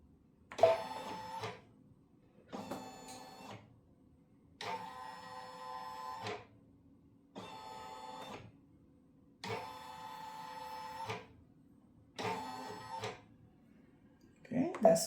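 An embroidery machine moves its hoop to trace a bag tag design outline, giving repeated whirring motor bursts of about a second each, separated by short pauses, in a steady stop-start rhythm up close and fairly quiet.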